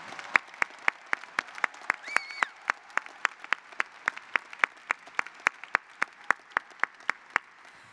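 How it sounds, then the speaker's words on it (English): One pair of hands claps alone in an even, steady rhythm at a graduation commencement ceremony, each clap crisp and distinct. A brief tonal sound briefly cuts in partway through. "Let's give another round of applause for our graduates"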